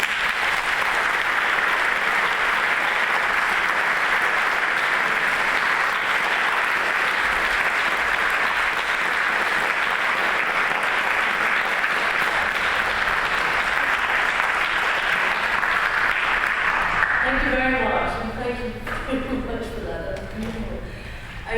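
Warm, sustained applause from a conference audience welcoming a guest speaker at a law event on ecocide, steady and full for about seventeen seconds before thinning out as a voice begins speaking.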